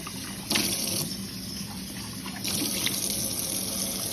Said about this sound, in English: I'm gonna re-rinse my bowl.